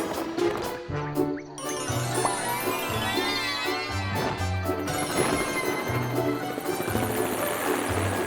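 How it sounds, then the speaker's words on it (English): A cartoon pterodactyl fitted with helicopter blades: a steady whirring rotor drone with a low pulsing beat runs throughout under bright tinkling cartoon music and chimes, loud and continuous. "It has a long beak and great wings. And helicopter blades?"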